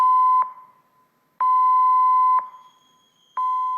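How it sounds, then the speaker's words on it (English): The general alarm aboard the ICEMAX offshore drilling vessel: a loud, steady electronic beep tone sounding in long pulses of about a second, separated by short silent gaps, with no voices. "the general alarm,"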